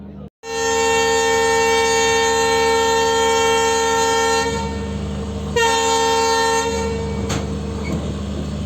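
Train at Furkating junction on the Guwahati to Jorhat Town line, its horn blaring loud and sustained from the start, then a second horn blast and rumbling wagons as it pulls away.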